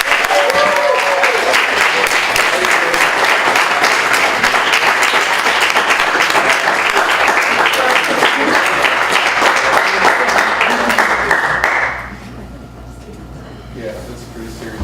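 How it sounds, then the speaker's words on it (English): An audience breaks into loud, sustained applause, dense clapping for about twelve seconds before it abruptly stops, leaving a quieter room. "With loud applause"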